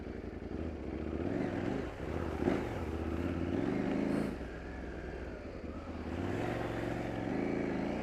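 A KTM 790 Adventure R's rear wheel spins on a loose trail with the engine droning at a steady, low rumble that rises and dips slightly, close and fairly quiet.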